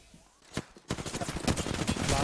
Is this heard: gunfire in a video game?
yes